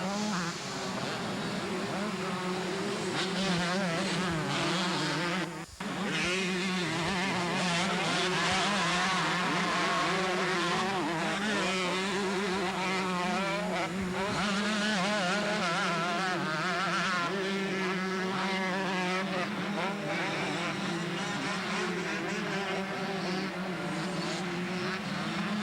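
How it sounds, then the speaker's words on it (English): Motocross motorcycles race at the 1987 Mount Morris, Pennsylvania national, their engines droning and whining loudly as they rev up and down across the whole stretch, with several machines overlapping and no clear gaps. "While Diamond cruises around in first, Kehoe starts cutting some really fast lap times"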